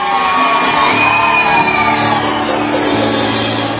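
A church congregation shouts out to Jesus during a lively service, a continuous loud roar of many voices raised together with no pauses.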